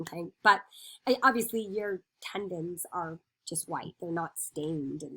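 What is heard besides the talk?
No distinct noise like a dog, phone or traffic.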